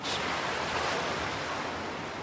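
Sea waves roll steadily onto a beach, a continuous broad wash of surf with some wind buffeting, loud and close with no distinct breaks.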